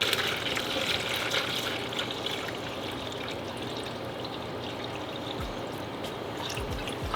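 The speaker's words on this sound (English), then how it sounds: "just put in the color coolant that came out." Coolant pours steadily into a Subaru WRX EJ20 engine, a soft continuous trickle and gurgle of liquid, close but quiet, with no talking.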